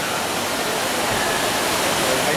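Water of the Trevi Fountain in Rome rushing and splashing in a steady, loud, broad wash of noise, heard close.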